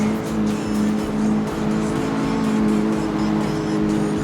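A car engine in the CarX Street racing game drones steadily after shifting into sixth gear, a constant low bogged-down hum with no clear rise in revs.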